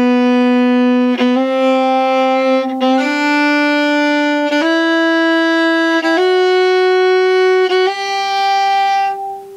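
A violin plays a slow rising scale of sustained bowed notes, each step introduced by a quick grace note, clear and close with no talking.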